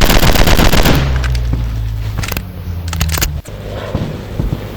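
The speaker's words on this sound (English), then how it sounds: "Suppressing fire on target!" Rapid bursts of machine gun fire in a first-person shooter game, loud and dense for the first second, then continuing as scattered shots and sharp cracks over a steady low rumble of game background noise.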